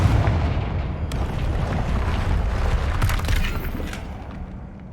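A Confringo spell blasts through a barrier in Hogwarts Legacy, giving a loud, sustained rumbling boom with a sharp crack near the one-second mark and another burst around three seconds before it tails off.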